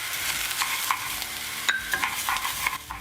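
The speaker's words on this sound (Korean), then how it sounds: "밥알 사이사이에 기름이 배이도록 잘 볶다가" Rice grains stir-fried in oil in a single pot for mushroom risotto, a soft steady sizzle broken by sharp scraping clicks of a spoon against the pot, close and clear with no voices.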